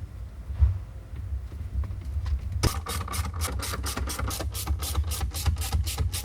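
A screw is driven back into a Chrysler/Dodge heated and cooled cup holder, giving a rapid run of evenly spaced ratcheting clicks up close after some quiet handling noise.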